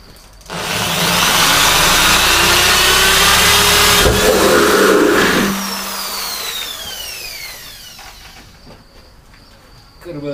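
A power drill bores into a plastic Mauser-type barrel being converted to a rainwater collector, giving a loud sustained grinding whine that cuts off after about five seconds, followed by the motor spinning down with a falling tone.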